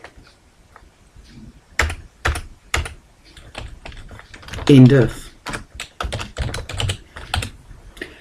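Fingers typing Excel VBA code on a computer keyboard, bursts of quick clicky keystrokes close by with short pauses between, while a voice talks briefly.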